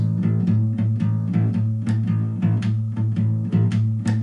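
Bass guitar playing a twelve bar blues pattern that alternates open notes with harmonics, a steady pulsing rhythm of low plucked tones and bright ringing overtones, close and alone.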